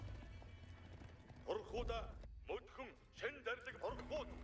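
Horse archers trot in a real-time strategy game match, steady clip-clop hoofbeats running continuously under a commentator's talk.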